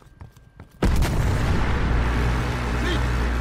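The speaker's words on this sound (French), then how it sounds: "On subit toujours des tirs nourris." Heavy gunfire erupts after a moment of quieter sound in Call of Duty: Black Ops Cold War, set in Vietnam, then continues as a loud, dense, unbroken barrage of shots and booms close by.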